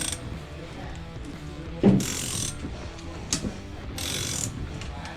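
A ratcheting wire cutout tool works on a boat windshield, giving a few short, bright clicking bursts separated by quiet pauses, close by and moderately loud.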